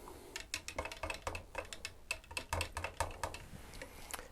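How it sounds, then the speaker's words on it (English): Stirring sepia redeveloper toner chemicals in a darkroom tray, heard as a close run of quick clicking, tapping knocks at an uneven rhythm, fairly faint, with no voices. "give this a stir"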